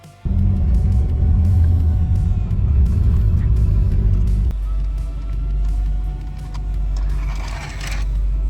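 Konkan Kanya Express rolls along in a steady deep rumble from inside the carriage, loud and continuous, with a shift in tone midway as the wheels and motion change.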